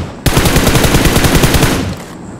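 Rapid automatic gunfire from a BGMI mobile battle royale match, a dense burst of regular shots rattling loudly for about a second and a half before cutting off.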